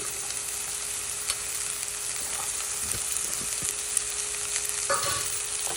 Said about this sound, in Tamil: இதுவும் கொஞ்சம் நல்லா வதங்கட்டும்.